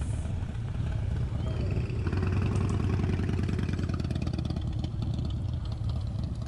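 Harley-Davidson CVO Breakout motorcycle riding past with no crash bars, a steady low engine rumble with a clattering mid tone that holds loud and even throughout.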